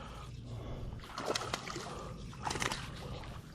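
A hooked fish splashes and thrashes at the water's surface while bass fishing with a ned rig, sharp sloshing bursts arriving in two clusters over a steady outdoor background.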